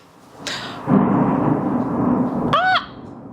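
Thunder from a lightning storm in Ghana rolls in as a loud, sustained rumble lasting a couple of seconds, with a brief higher-pitched sound at its end.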